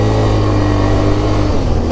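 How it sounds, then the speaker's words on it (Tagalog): An ATV engine drones and throttles on a rocky off-road trail, a loud close mid-pitched roar that holds steady for two seconds, alone. "Sobrang puwersa ng ATV na to, nag-skid yung gulong niya sa likod pagka na to, throttle mo ng sakit"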